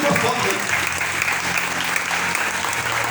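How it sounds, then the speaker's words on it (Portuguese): A church congregation bursts into sustained applause, dense steady clapping from many hands filling the room, with voices mixed underneath. "Aplaude o Senhor Jesus."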